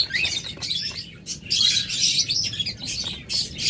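Small, lively caged birds kept for sale chirp in rapid, high, overlapping bursts, a busy twittering cluster close at hand with a brief lull midway.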